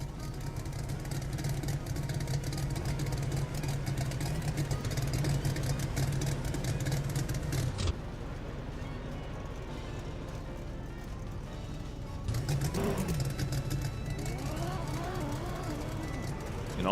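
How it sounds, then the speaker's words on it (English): A straight-six car engine in a drag racing video game drones steadily, rising and falling in pitch as it revs, with a brief lull midway and some talk over it. "You can also hear that that car has like an straight 6 engine or something."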